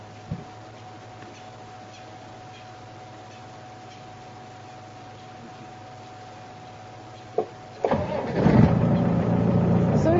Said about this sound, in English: This is a diesel engine, so it has glow plugs to warm up the fuel